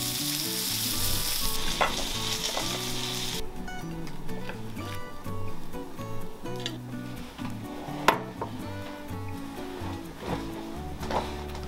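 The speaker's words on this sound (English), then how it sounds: "Just fry them for a couple of minutes on each side" Food fries in a pan with lots of butter, giving a steady sizzle with occasional stirring clatter. Background music with tonal bands plays throughout, and there is no talking.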